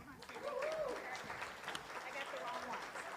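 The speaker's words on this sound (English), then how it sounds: "One more time, round of applause, please." An audience at the 2023 AOA National High Point Awards ceremony applauds youth award winners: faint, steady clapping from a room of people, with a voice speaking over it.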